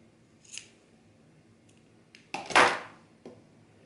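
Scissors snip through thick fabric during shirt sewing, a faint cut near the start followed by a louder, longer crunching cut and a short final snip, all without talk.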